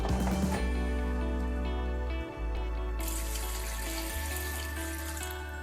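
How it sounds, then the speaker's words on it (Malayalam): Water poured steadily into a pot over lemons for a Kerala-style lemon pickle, a continuous close splashing rush that runs the whole time with no pauses. "നാരങ്ങ മുങ്ങിക്കിടക്കുന്നിടത്തോളം വെള്ളം ഒഴിക്കണം."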